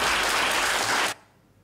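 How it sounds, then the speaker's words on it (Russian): Audience applause in a hall during a talent contest ends a break announcement, a dense wash of clapping that holds steady for about a second before cutting off sharply to near silence. "Ваши аплодисменты!"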